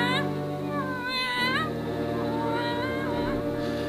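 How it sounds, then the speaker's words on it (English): A black tomcat meows several times, rising and falling yowls that stand out clearly over a steady low background hum, heard fairly close with no talking. "Yes, it's a cat."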